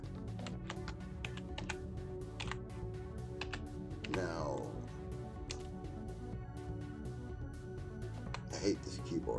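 Typing on a computer keyboard: steady quick clicks and taps stream throughout at low level, close but faint, under a constant background hum, with a person speaking briefly over the keystrokes.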